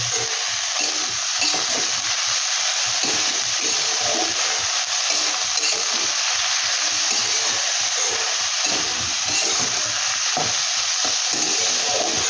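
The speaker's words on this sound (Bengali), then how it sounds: "একটু হালকা করে একটু ভেজে নেব" Fenugreek leaves fry lightly in a pan with a loud, continuous hiss and sizzle, close up and even throughout, with soft stirring scuffs and no talking.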